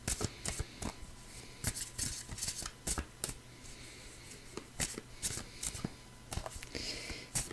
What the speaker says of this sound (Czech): Tak si tady zamícháme karty a mrkneme se na to.